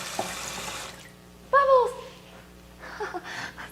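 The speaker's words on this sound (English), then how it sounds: "So right now I'm gonna fill it with water" Tap water runs into a blender jar in a steady rush for about a second before stopping, followed by a short spoken phrase and quieter kitchen sounds.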